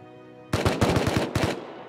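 Rapid bursts of automatic gunfire in the video game Rust, loud and close, arriving as two quick volleys after a low hum.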